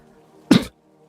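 A single sharp cough bursts out close to the mic, followed by the start of a second, over a quiet background hum.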